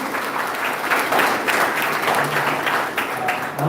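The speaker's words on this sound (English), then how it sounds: "I think you should give a round of applause for them" A talk show audience applauds the guests, a dense, steady wash of clapping that holds at full strength for a few seconds.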